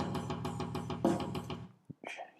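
A Guitar Pro 7 drum track plays back in steady eighth notes, with a quick even run of programmed hits that stops after about a second and a half, followed by a few scattered faint sounds.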